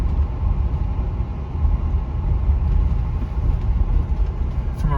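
A 1969 Lincoln Mark III cruises along the road, its engine and tyre noise a steady, dense low rumble heard from inside the cabin without a break.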